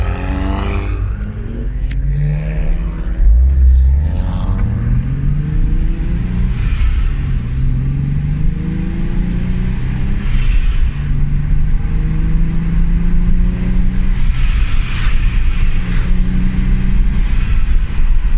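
Car exhaust with an adjusted blow-off valve that gives a vacuum-cleaner-like whoosh, a loud, close engine droning and gently revving during easy break-in driving, without voices.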